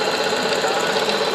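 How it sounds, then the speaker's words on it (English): A Singer sewing machine monogramming with a twin needle runs in a loud, rapid, even mechanical whir with fast needle knocking, close up and without pause. "I'm monogramming with the twin needle to show you how it'll look."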